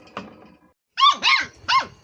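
A female puppy on a farm lets out one short yip, then three quick, loud, close barks with a growly edge after a brief pause.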